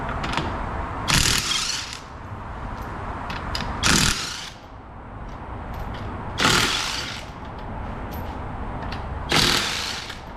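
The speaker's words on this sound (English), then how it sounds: "We're gonna jack the vehicle up, get the tire off" Ratcheting clicks of a car jack raising a Porsche Carrera 991, with steady mechanical cranking punctuated by four louder bursts spaced a few seconds apart, close and alone.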